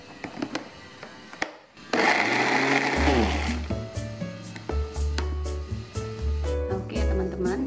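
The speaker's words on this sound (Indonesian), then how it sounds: "tapi blenderlah dengan minyak makan ya" An electric blender grinds onion and other ingredients with cooking oil. After a few light taps and clatters, it roars into a loud, steady whir that dips and surges in pitch as the mixture churns.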